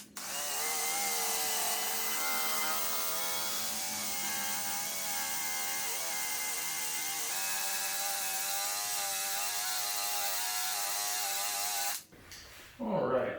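A drill spinning a PowerBall polishing cone whirs steadily and loudly against a car's exhaust tip, a continuous high buzzing drone that stops abruptly near the end, with brief talk after.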